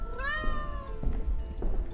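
Close, clear cat meow with a rising then falling pitch at the start, followed by softer murmuring sounds in a quiet room.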